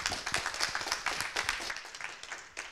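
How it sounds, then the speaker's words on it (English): Applause from a conference audience for a keynote speaker, moderate and somewhat distant clapping with individual hand claps distinguishable, sustained for under three seconds and easing slightly at the end. "So please let us have this nice applause on level three"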